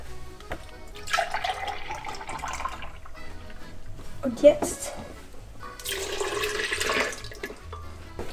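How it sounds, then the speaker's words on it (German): Milk pours from a container into a glass for a homemade iced milkshake in a home kitchen, a gurgling liquid stream in two bursts while someone speaks in German. "Und jetzt kommt einmal die Milch in das Glas."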